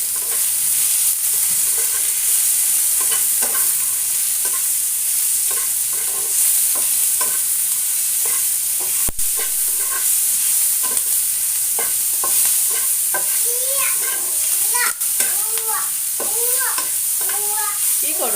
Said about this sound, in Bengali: এবার এটা দিয়ে নেড়ে চেড়ে দেবো